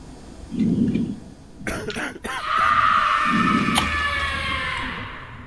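Two separate coughs in the game Quarantine Zone, one after another, with bursts of clattery noise and a sustained electronic hum in between.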